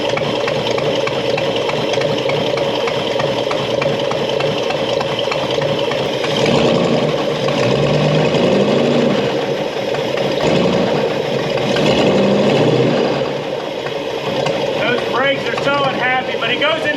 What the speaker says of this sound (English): dead smooth sitting there idling.